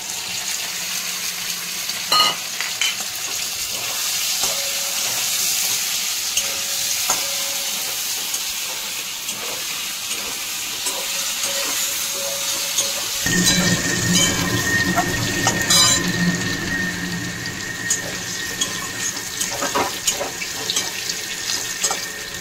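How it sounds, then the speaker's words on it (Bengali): Continuous frying hiss of pointed gourd with occasional spatula clicks and scrapes against a pan; partway through the texture shifts into a denser, rushing sizzle, like liquid added. "পটলটা দিয়ে কষাবো"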